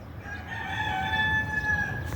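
A rooster crows once in a long, drawn-out call at moderate distance over a low outdoor background.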